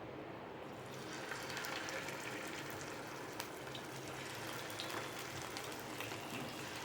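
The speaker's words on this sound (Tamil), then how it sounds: "இப்போ இதை எண்ணெயில் போட்டு பொரிச்சுக்கலாம்." Chicken 65 pieces sizzle in hot oil in a kadai at medium flame, a steady faint crackling hiss with scattered pops running throughout.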